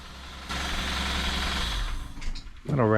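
A 1990 Chevrolet Cavalier Z24 engine runs with a light rattle, a steady mechanical drone that grows louder partway through, followed by a short burst of speech near the end.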